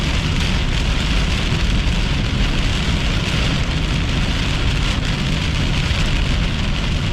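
Heavy rain pours steadily during a violent thunderstorm near Napierville in June, a dense, constant hiss of drops drumming on surfaces with no voices.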